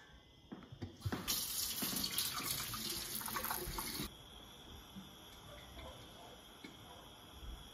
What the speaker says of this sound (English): The next thing I'll be adding to the boil are some potatoes. So I'm gonna go ahead and wash those.